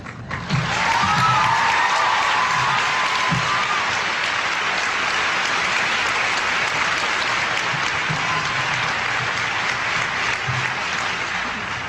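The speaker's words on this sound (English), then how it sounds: "you clap more for Ferris than you clap for George" An audience breaks into loud, sustained applause in a hall. The dense clapping starts abruptly and holds steady for about ten seconds, with a faint voice or tone briefly audible early on.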